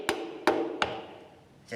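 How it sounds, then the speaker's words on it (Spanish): A hammer handle knocks a piston head into a diesel engine block: three sharp, evenly spaced wooden taps, close and ringing briefly, followed by a softer knock. "con el cabo del martillo le golpeamos en la cabeza del pistón"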